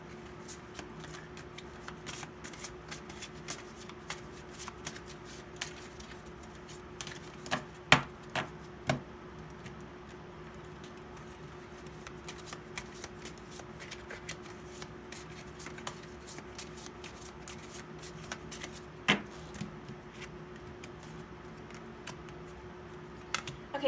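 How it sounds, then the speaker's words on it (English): Tarot cards shuffled in an unusual way, producing a long run of rapid, faint papery ticks and flicks with a few sharper snaps, steady and close throughout. "I got to shuffle it a little weirdly like this first."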